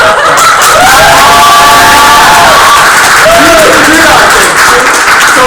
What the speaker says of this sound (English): everybody should give a round of applause to both slates